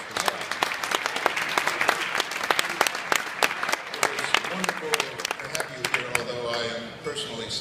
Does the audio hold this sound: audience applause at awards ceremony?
yes